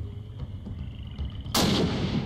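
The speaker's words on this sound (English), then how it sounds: "I shot an unarmed man." A single loud gunshot in Sherlock Holmes: The Awakened cracks out abruptly near the end, following quieter in-game ambience and ringing briefly afterward.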